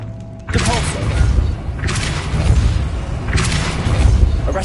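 A Depulso spell blast in a video game: three loud, booming bursts strike roughly every 1.5 seconds, each with a heavy thump and a rushing tail that carries into the next.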